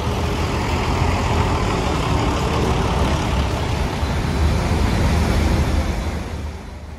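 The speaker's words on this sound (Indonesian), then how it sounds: "ini udah ada bis Bagong jurusan Kediri, tapi kayaknya udah pada keisi bangkunya" Bagong intercity bus bound for Kediri at Purabaya bus terminal in Surabaya, a steady heavy diesel engine rumble with broad traffic noise, close and loud throughout, easing slightly at the end.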